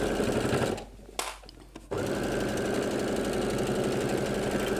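A sewing machine stitches backwards and forwards in a loud, rapid mechanical whirr that stops for about a second, with a brief click in the pause, then resumes steadily.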